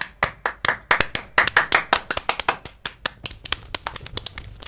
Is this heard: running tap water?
no